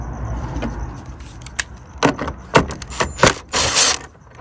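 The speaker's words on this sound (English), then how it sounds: "First, you want to take off this 10mm bolt to get it out the way." Ratcheting clicks from a wrench loosening a 10mm bolt near the headlight of a 2018 Kia Forte LX, short bursts of metallic clicks and clatter in an irregular rhythm, close and fairly loud, with no talking.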